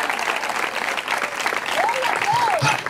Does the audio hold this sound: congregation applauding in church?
yes